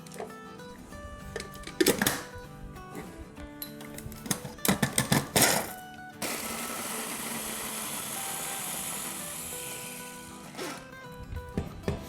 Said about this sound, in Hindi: अब इसको हम ब्लेंड कर लेंगे।